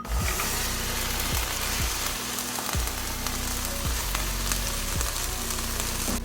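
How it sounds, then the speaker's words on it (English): Asparagus fries in hot oil in a pan, giving a loud, steady sizzle that carries through without pause, with faint stirring or pan sounds and no talk. "We will fry the asparagus a bit"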